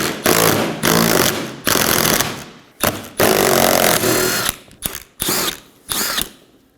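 Power tool ratcheting out 10mm screws beneath the front bumper cover of a 2015-2023 Nissan Maxima, loud buzzing whirs in about eight bursts separated by brief pauses.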